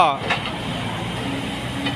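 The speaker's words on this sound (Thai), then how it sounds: "เครื่องยนต์4สูบคอมมันเร็ว" The four-cylinder common-rail diesel engine of a SANY SY135C excavator runs with a low, steady rumble, heard briefly beneath someone talking nearby.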